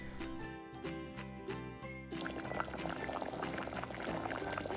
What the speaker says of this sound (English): This bubble sound makes me hungry.